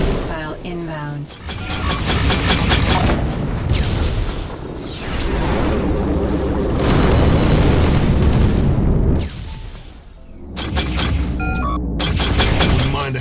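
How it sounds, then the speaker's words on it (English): Space combat in Rebel Galaxy Outlaw brings heavy missile explosions, loud rumbling booms and crackling bursts repeating through the clip with brief quieter gaps and a few alert tones, under a dense layer of game noise. "Missile inbound."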